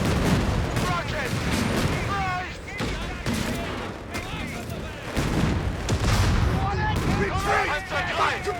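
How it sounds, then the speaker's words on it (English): Rocket barrage explosions and gunfire rumble through a World War II desert battle in Company of Heroes 3, set in the African campaign at El Alamein, a dense continuous roar of booms and shots with shouted voices over it. "Rockets!"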